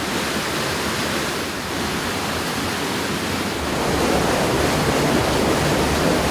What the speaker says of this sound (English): You'll divert the water back to the water wheel.